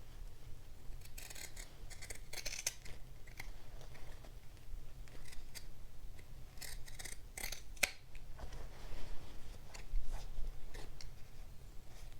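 Scissors cutting and trimming the fabric of a sewn bodice: quiet, close, irregular snips and rubbing crunches as the piece is turned, set against a low steady hum, with no talk.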